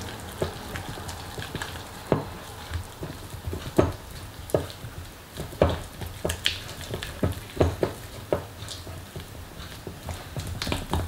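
Flour and lukewarm water being mixed by hand into a baguette poolish, giving a steady run of close, soft wet slaps and scraping stirs with sharper clicks of the utensil against the bowl, no voices.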